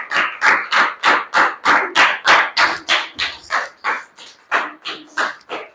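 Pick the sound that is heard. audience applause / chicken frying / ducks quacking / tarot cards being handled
audience applause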